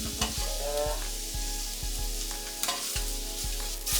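Butterflied shrimp, sliced halfway open, sizzle loudly in a hot pan during a scampi cook, with a steady frying hiss broken by several sharp knocks and scrapes as the pan is tossed and the shrimp are stirred.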